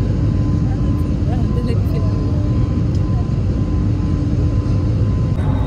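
Steady, loud broadband roar of a passenger jet's engines and airflow inside the cabin during descent on a Chennai to Bangalore flight, continuous and unbroken throughout.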